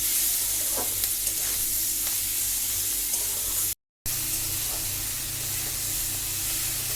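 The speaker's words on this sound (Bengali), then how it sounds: "একটু কাঁচা লঙ্কা কুচি, দিয়ে এটাকে আমি একটু ভালো করে ভাজবো।" Chopped green chilli frying with potato and onion in a pan for a Bengali lau chingri dish, a steady close sizzle with stirring scrapes throughout, briefly cut off midway, no voices.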